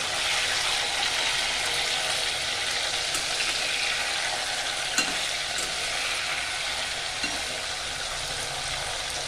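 Pieces of fish fry in hot oil in a silver wok while being stirred, giving a steady, loud, close sizzle throughout with a few faint scraping knocks from the spatula.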